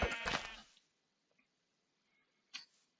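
Sheep bleat in the Minecraft-style game Hungry World, a single quavering cry near the start followed by near silence and a brief fainter bleat later.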